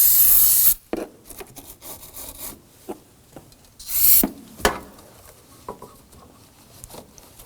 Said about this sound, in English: clean up around here using a little bristle brush if you have one